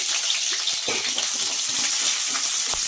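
Onions fry in hot oil for mutton curry, a steady close sizzle with occasional stirring clicks and pops, no voices.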